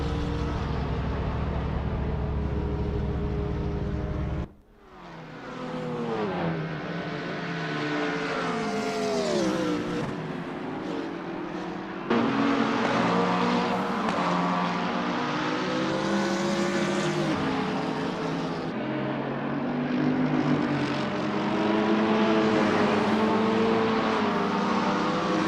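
Race cars, one of them a McLaren, at the Mugello 12-hour endurance race, engines whining and rising in pitch as they approach and pass, with loud overlapping revving and gear changes continuing throughout.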